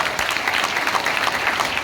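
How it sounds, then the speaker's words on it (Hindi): An audience at a Mi Lifestyle direct-selling leaders' meeting gives Vijay Chaudhary a loud, dense burst of clapping that stays even and full throughout. "मैं चाहूंगा विजय चौधरी सर के लिए एक बार तालियां हो जाए"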